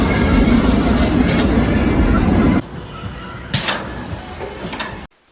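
Loud rumbling rail noise as a train arrives over a track brake cuts off abruptly, followed by a quieter stretch with a couple of sharp hissing squeals before silence.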